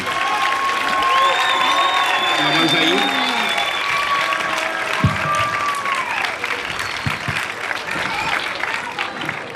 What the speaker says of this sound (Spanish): Un fort aplaudiment per a ella.